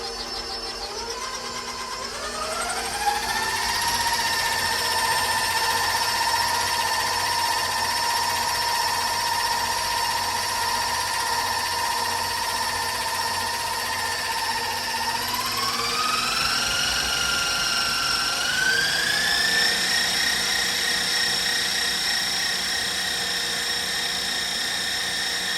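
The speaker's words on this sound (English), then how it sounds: "so I'm going to use my Whisk. this time." An electric hand whisk beats frosting with powdered sugar in a bowl, a loud steady motor whine running throughout that shifts up in pitch twice as the speed changes, with no speech over it.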